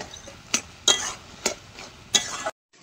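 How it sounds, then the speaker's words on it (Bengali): A spoon stirs crab curry in a pan, giving a handful of sharp, close metallic clinks and scrapes at uneven intervals over a low background, then a sudden cut to silence. "এবার ভালো করে নাড়াচাড়া দিয়ে দিয়ে জলটা ভালো করে টানিয়ে নেব"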